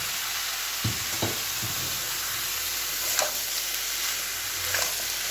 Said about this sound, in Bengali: এবার এই সেদ্ধ করে রাখা মোচাটা আমি মশলার মধ্যে দিয়ে দেবো